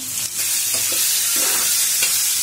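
Turmeric and cumin powder sizzling in hot oil, a loud continuous crackle close up, with a few stirring scrapes breaking through at irregular intervals.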